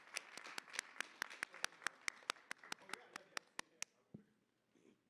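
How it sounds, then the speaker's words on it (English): After a panel talk, an audience claps at a steady, even rhythm: sharp, evenly spaced claps that soften and stop near the end, followed by a brief murmur of voices. "So we're going to give a round of applause for Thanks. Justin Lynch for being here today."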